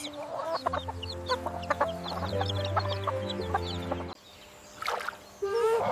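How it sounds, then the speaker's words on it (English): Hens clucking in a farmyard, several birds calling in short repeated bursts with a rooster-like tone mixed in, fairly close and steady, with no talk over them. "Hens take care of their babies."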